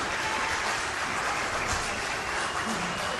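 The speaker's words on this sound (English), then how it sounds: "And a very well-deserved applause." Steady applause from an audience, dense clapping at moderate level that continues evenly without pause.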